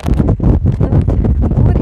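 Strong gusts of a storm wind over the sea batter the microphone, a loud rough roar that surges and dips in quick pulses with no voices.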